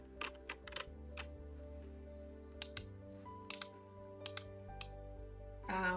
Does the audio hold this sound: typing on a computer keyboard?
yes